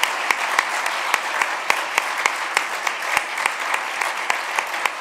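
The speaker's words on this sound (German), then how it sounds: "Und nochmal einen großen Applaus an Dr. Klaus." Steady applause from a conference audience at the close of a talk on ADHD, dense even clapping with scattered sharper claps, moderately loud throughout with no talking.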